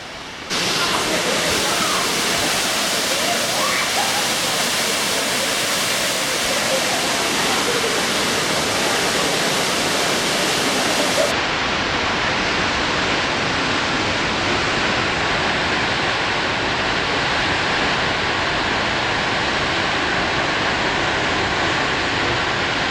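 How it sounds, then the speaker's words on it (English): A rainforest waterfall in Puerto Rico roars as a loud, steady broadband rush of falling water, continuous and close, with no pauses; the tone shifts once partway through as the position changes. "So we just left the waterfall."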